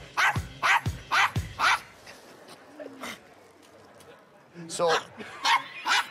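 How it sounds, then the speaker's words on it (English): Yorkshire Terrier yapping in a burst of four quick sharp barks, then a pause with faint whimpers and a short spoken word, followed by another run of rapid barks, close by in a talent show setting. "It's a Yorkshire Terrier."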